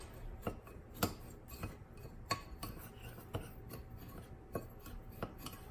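About a third cup of flour is stirred into a bowl for buffalo fried shrimp batter, giving a steady run of soft clinks and scrapes from a utensil against the bowl, fairly faint, with no talking.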